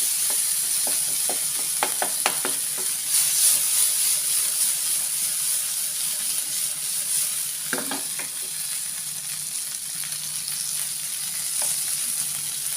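Butter prawns with pepper paste sizzle steadily in a pan, a continuous close frying hiss broken by a few clustered spatula scrapes and clinks as they are stirred, with no talking.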